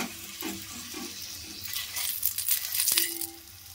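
A pea-stuffed paratha fries in oil in a pan, giving a soft crackling sizzle with scattered clinks and scrapes of a utensil, rising in intensity toward the end before easing off.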